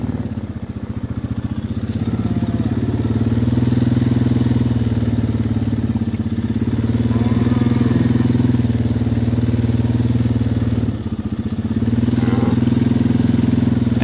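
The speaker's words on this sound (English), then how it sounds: "it was wanting to follow the quad, and I'm just driving it over" A quad ATV engine runs steadily close by, a loud continuous mid-pitched drone with slight dips, while it is driven slowly over farm ground beside a newborn twin calf.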